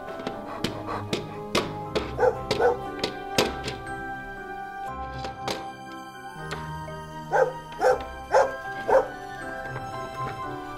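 A dog barks repeatedly in a restaurant management video game, with rhythmic, toy-like bow-wow yips in close bursts over a steady layer of background game music.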